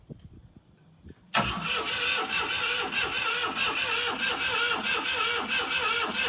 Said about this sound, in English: Give it some throttle now and see what happens.